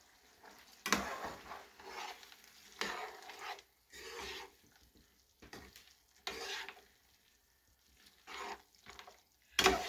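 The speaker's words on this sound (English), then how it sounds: "And then we're going to give it a good stir." A spoon stirs through a thick mixture in a bowl or pot, giving intermittent scraping, sloshing strokes that rise and fade in a steady rhythm, fairly quiet and close, with no talking.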